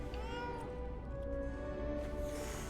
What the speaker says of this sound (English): oh my gosh, it's the cat.